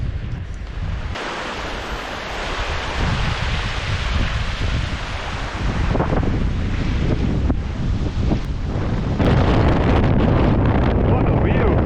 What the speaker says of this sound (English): the wind, for some reason, is extremely vicious out here